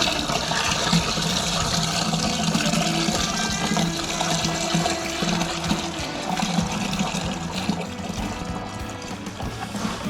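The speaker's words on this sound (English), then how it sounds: "And we top it up with water" Steady rushing water pours into a homebrew fermenter, a continuous splashing gush that runs throughout without pause.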